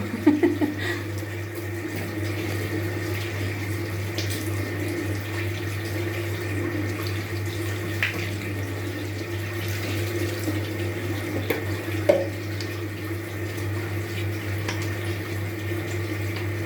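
Water runs steadily from a tap while a homemade facial mask is rinsed off the face, making a constant close stream with a low hum beneath and a few faint splashes and clinks, without speech.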